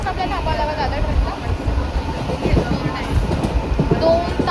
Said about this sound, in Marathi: आता मी बसले ठाण्यावरनं दादर ट्रेनला.